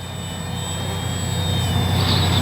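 A small FMS Ranger 1220 RC plane flies at half throttle, its electric motor giving a steady, moderately distant whine that slowly grows louder as it passes closer, with no talking.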